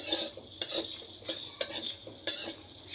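Whole spices dry-roast in a dry pan on a home stove, stirred with a utensil that scrapes and clinks against the metal in a few sharp strokes over a soft, close sizzle.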